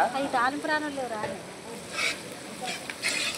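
Tempering for gongura chutney sizzling in hot oil with curry leaves, cashews and asafoetida, a steady frying hiss with crackles, while a voice talks over the first half.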